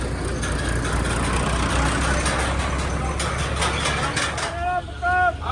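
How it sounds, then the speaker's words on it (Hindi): A tractor engine runs steadily at a crowded village gathering for a Maharana Pratap Jayanti event, a constant low drone under loud crowd chatter, with a few short whistle-like tones near the end. "आन लग रही जो अपना ट्रैक्टर"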